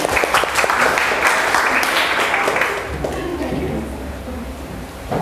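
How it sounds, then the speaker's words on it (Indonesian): A burst of applause from a class, loud at first and tapering off, with some voices mixed in. "Kalau betul tepuk tangan."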